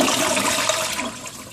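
A home toilet flushing, a loud rushing swirl of water that starts at full force and gradually fades as the bowl drains, with no talking.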